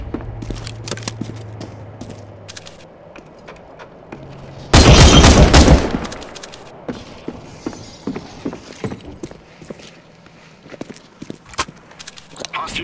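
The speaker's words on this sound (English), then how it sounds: "Throwing flashbang." A flashbang grenade is thrown and explodes in a hostage-rescue shooter game, a single loud blast midway, surrounded by footsteps, scattered shots and game voices talking.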